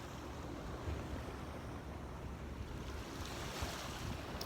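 Steady surf rolling onto a Gulf of Mexico beach at sunrise, a continuous broad wash of waves with some wind rumble, moderately distant and fairly quiet, with no voices.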